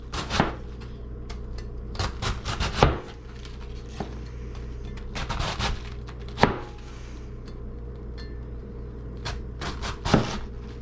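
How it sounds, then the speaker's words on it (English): Red cabbage finely shredded with a knife on a cutting board, heard as clusters of sharp, close chopping knocks with short pauses between bursts, over a low steady hum and without speech. "Then we're going to shred this very finely."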